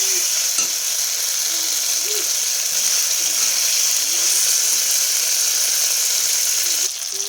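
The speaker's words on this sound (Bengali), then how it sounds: "এবারে সেদ্ধ করে রাখা যে মটর আর আলু, ওইটা দিয়ে দিলাম। মশলার সাথে একটু ভালো করে কষিয়ে নিই।" Boiled peas and potatoes fry with spices in a pan, giving a loud, steady close sizzle with occasional stirring scrapes throughout and no talking.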